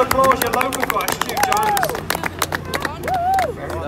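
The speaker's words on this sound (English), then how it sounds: "Ladies and gentlemen, Teesside, give him a round of applause, your local guy, Stu" Crowd at a Teesside round of the British drift championship applauding local driver Stu Jones, loud dense clapping and cheering mixed with car tyre squeals and a voice talking over it.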